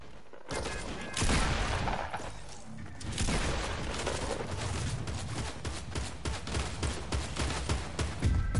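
Dual pistols fire in a video game as a rapid, dense volley of gunshots that runs almost continuously for several seconds, loud and close, with a brief quieter gap near the start.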